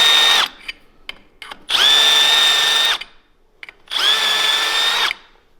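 A handheld power drill grinds and bevels the freshly cut edges of a metal leveling-kit part for a 2011-2016 Ford Explorer, removing burrs in three loud, sustained high-pitched whining bursts separated by short pauses with faint clicks.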